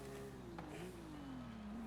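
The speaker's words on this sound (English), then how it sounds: "Engine sound." Car engine in Forza Horizon 5 on a drift-tuned car with a welded differential, droning steadily and sweeping down then back up in pitch as the revs shift, loud and continuous with no talking.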